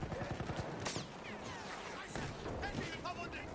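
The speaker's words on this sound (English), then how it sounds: "I can hear fucking gunshots going off around me and shit, man." Gunfire in the video game Battlefield 1, distant scattered shots and bursts crackling under a voice chat, fairly faint and continuous.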